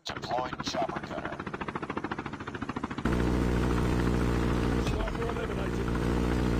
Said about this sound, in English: Deployed chopper gunner.